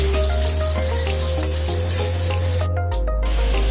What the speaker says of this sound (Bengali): বেগুনটা একটু হালকা ভেজে নেব।